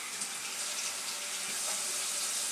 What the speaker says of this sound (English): Okay, I'll wash my hands now.